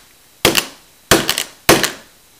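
Knife used as a hammer striking a Coby MP3 player, three sharp, loud impacts spaced roughly half a second apart, each with a short rattle.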